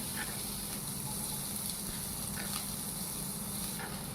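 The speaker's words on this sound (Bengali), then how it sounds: "জিরেটা গরম হয়ে গেছে, এবার আমি পেঁয়াজটা দিয়ে দিচ্ছি।" Chopped onion hits hot oil already sizzling with cumin in a pan, giving a loud, steady frying hiss that holds evenly throughout, with no voices.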